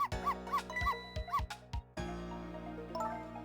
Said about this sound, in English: If you bark like that, you'll make the little lady next door start howling.